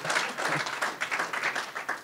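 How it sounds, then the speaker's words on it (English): A short burst of audience applause at a blockchain talk, a modest crowd clapping in uneven, fairly close hand claps that rise and dip briefly. "Can we do a quick round of applause again for Ty?"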